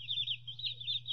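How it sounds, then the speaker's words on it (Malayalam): Silkie chickens, a soft-feathered breed, give a continuous high warbling chirp over a steady low hum in a livestock setting. "ഇപ്പോൾ കണ്ടുകൊണ്ടിരിക്കുന്നത് സിൽക്കി കോഴികളാണ്."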